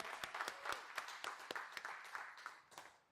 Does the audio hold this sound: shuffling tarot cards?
no